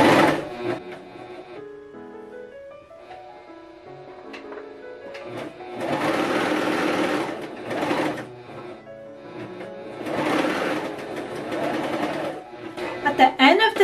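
A Pfaff coverlock 4.0 sews a knit side seam in two bursts of rapid mechanical whirring, with quieter gaps and a voice talking between them.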